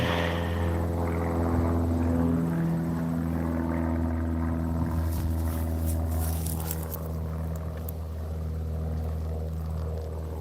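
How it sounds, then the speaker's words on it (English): A propeller airplane drones overhead above a cemetery, a steady loud tonal hum with layered harmonics that holds throughout, with a faint rustle partway through. "Airplane."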